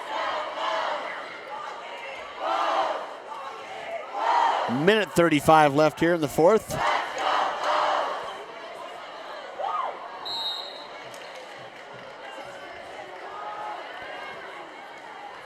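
Basketball fans, parents and students cheering and shouting in a high school gym during a Rocky Mountain vs Fort Collins boys game, a loud crowd roar with sharp whistle-like squeals, under an announcer's voice.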